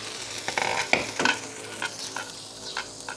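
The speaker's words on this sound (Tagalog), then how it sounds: "Kumukulo na po." A pot of liquid boils, with soft bubbling, sizzling and intermittent stirring clatter heard up close at moderate level.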